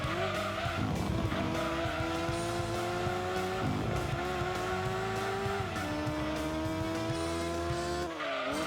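A Jaguar's engine in the Gran Turismo 2 racing game revs very high and keeps roaring with rising and falling pitch, with some tire squeal. The sound is continuous and loud, and no one speaks.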